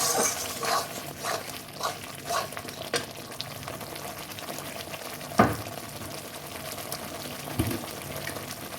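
Spice masala with ground coriander frying in a pan for a Bengali crab curry, a steady close sizzle with occasional stirring scrapes and a few sharper clanks, no talk.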